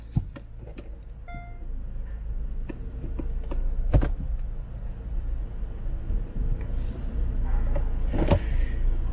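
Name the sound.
car transmission shifting forward and reverse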